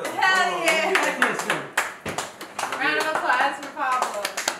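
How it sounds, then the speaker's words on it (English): A few people clap in quick, sharp bursts in an indoor hangout in New York, the claps mixed in with loud, excited voices talking over them. "Round of"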